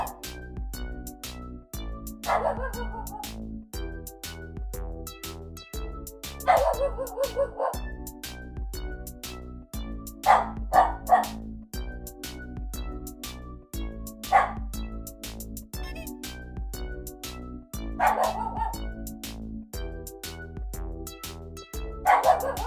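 Pet dogs play together, letting out repeated short yips, barks and whimpers at close range over a steady musical background with a low rhythmic pulse.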